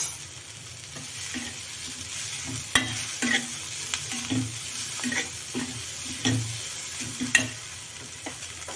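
Chiv (chigol) wild greens sautéed with salt in a pan, with a steady soft sizzle under repeated scraping stir strokes and occasional louder clacks of the spatula against the pan. No voices.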